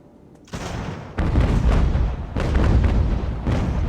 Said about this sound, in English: I'm trying to take cannon shots on them,